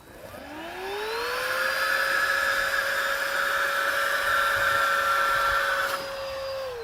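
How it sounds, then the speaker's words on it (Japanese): A battery-powered cordless carpet rinser spins up with a rising whine, then holds a steady loud suction hum and whistle while pulling water from a soaked carpet, easing down at the end; no talk. "こんな感じでざっくり水を吸う分にはいいかもしれないんですが"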